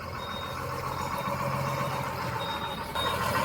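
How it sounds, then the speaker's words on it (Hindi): Truck pulling out near a resort reception at Jim Corbett, its engine rumbling steadily while a high reversing beep sounds at intervals above a constant background hum. "ट्रक निकल रहा है"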